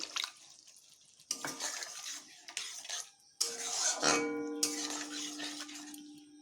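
Water poured into a paneer recipe mixture in a pot, intermittent splashing and pouring in several bursts with clinks of utensils, close and fairly faint, no talking.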